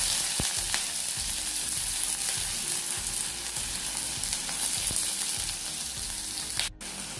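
Onions sizzle in a small amount of oil for pasta, giving a steady, close crackling hiss that runs throughout with faint stirring, and a brief dip near the end.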